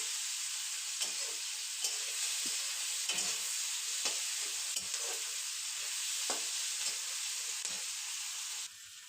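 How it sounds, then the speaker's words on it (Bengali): Onion fries in a pan with a continuous loud, close sizzle, while repeated stirring strokes scrape through it at an irregular rhythm. "পেঁয়াজটা ভাজা ভাজা হয়ে গেছে"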